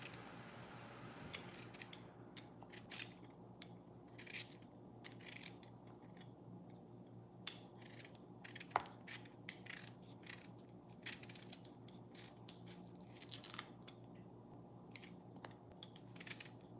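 Quiet, close scissor snips cutting material indoors, irregular crisp clicks scattered throughout over a low steady background hum, with no talking.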